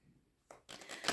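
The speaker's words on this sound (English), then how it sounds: "One more butterfly shuffle." A quick butterfly shuffle of playing cards, two short bursts of fluttering shuffles close by, the second louder and busier.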